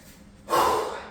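A single sharp, loud breath, like a snort or gasp, bursts out after a quiet start and fades slowly, heard up close during a 20-minute home or workplace interval workout of 45 seconds effort and 15 seconds rest.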